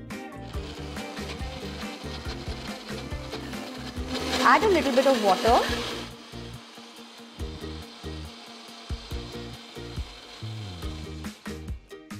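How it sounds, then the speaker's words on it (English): A mixer grinder blends soaked moong dal with a small chopped onion and a little water, whirring loudly for about two seconds in the middle, with kitchen talk before and after. "now let's add it in this mixer grinder"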